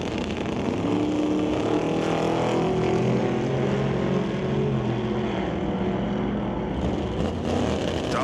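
A 1964 Ford Falcon roars down the strip at Mission Raceway in a drag race, with loud, steady engine noise filling the whole stretch, a race car engine rising in pitch as it pulls hard, with no talk over it.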